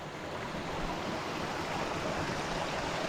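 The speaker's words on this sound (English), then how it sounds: "try to get a better look at that waterfall up there" Waterfall in a wild outdoor setting, heard as a steady, broad rushing roar of falling water, moderately loud and continuous with no talk.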